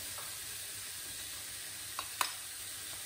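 Ginger garlic paste sizzles steadily in a pan during the cooking of lamb do pyaza, a soft continuous hiss with a couple of faint pops near the end.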